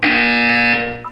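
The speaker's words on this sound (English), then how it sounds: "You will hear a buzzer." An electronic buzzer from the Portal 2 game sounds a single steady, loud tone lasting about a second, fading at the end with a brief blip after it.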